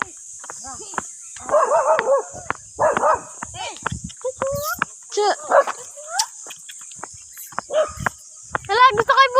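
Dog barking outdoors along a steep mountain trail during a jog, with repeated sharp barks and yelps in short bursts over steady insect buzz, while people talk nearby.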